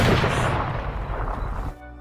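A gunshot in a film, a loud, close blast with a rumbling tail that cuts off abruptly into near silence.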